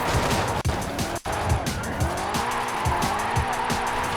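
A BMW drifts in Forza Horizon 5, its engine revving steadily while tires squeal in repeated bursts, loud and close, with two brief dropouts in the sound.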